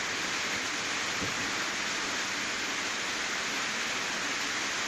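Steady outdoor wind and rain make a dense, even hiss that runs unbroken and fairly loud for the whole stretch, with no voices over it.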